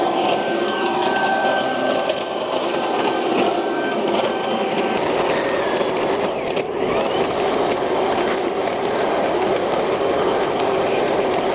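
An EGO cordless leaf vacuum runs at full power, sucking up loose debris over gravel, giving a loud, steady whooshing roar with rattling debris that holds throughout without any speech.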